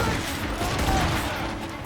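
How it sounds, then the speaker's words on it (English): Ship cannons firing in a naval battle in the Assassin's Creed Rogue video game, a dense, loud, rumbling barrage of booms running continuously with shouted voices mixed in. "Cannon ready! Fire!"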